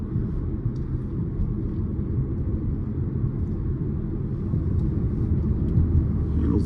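A 2025 Audi A5 accelerates up a slight hill, a smooth steady low engine and road rumble heard from inside the cabin that swells a little toward the end, with no talking.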